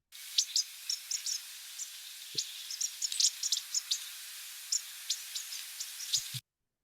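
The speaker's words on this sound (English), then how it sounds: "all of them are constantly giving this little contact call" Soft, high-pitched tiny contact calls flit continuously from a bushtit flock, thin twittering notes scattered over a faint hiss.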